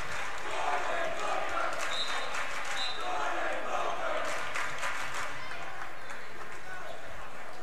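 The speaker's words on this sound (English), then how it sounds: "A big round of applause." Basketball crowd at a men's college game applauding a senior player during a recognition moment, a broad wash of clapping and crowd noise with voices mixed in, moderately distant and sustained.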